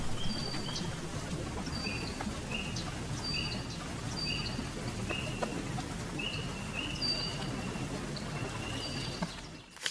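A looping birdsong texture of repeated high chirps and tweets sits over a steady low wash, running continuously at moderate level as a backing layer behind melodies.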